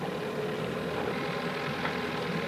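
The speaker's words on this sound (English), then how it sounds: "Sorry about the engine noise." A boat engine runs steadily on Alaskan waters, a continuous close, loud mechanical drone with a low throbbing rumble and no talking.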